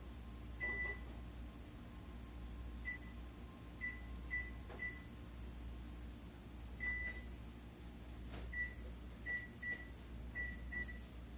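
Electronic beeps from the timer buttons of a new kitchen oven, short high chirps arriving in scattered single and paired presses over a low steady hum, no talking.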